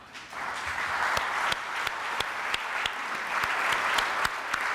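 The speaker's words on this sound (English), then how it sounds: "would you please stand so that we can recognize you with a round of applause?" An audience at a civic association's annual end-of-season meeting gives a steady round of applause, dense clapping that holds at an even level for several seconds with a few sharper individual claps standing out.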